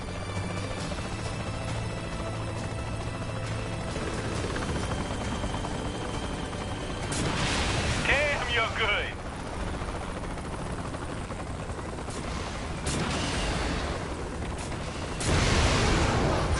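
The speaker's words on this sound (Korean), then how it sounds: "헬리콥터가 오는 것 같아." A helicopter approaches in Saints Row: The Third Remastered, with a steady rotor throb under a dense game mix of gunfire and explosions. The sound swells louder near the end.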